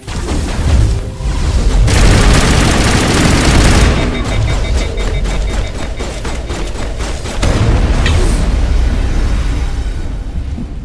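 Heavy gunfire rages in Mass Effect Legendary Edition, loud sustained bursts of automatic weapons and booming shots overlapping into a dense, continuous firefight with brief lulls before erupting again.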